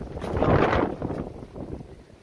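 Strong wind gusting in snowy mountain weather, a broad rushing roar that builds to a loud peak early on, then eases into steadier, softer blowing with no voices.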